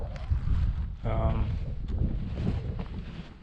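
Gusty wind buffets a microphone outdoors in the Mojave Desert on a cold, cloudy day, a steady low rumble with a brief voice partway through.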